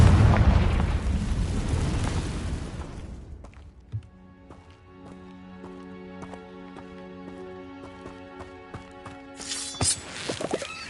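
A Confringo spell explosion in a Harry Potter video game erupts as a loud, noisy burst that fades over several seconds, followed by quiet ringing tonal chimes.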